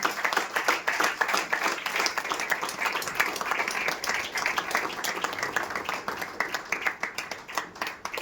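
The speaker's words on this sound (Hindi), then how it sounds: "इस दिन की तालियां देंगे।" A church congregation claps together after a call for thanks, dense steady applause lasting several seconds with no voices rising above it.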